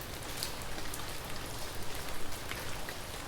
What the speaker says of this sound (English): the rain pounding harder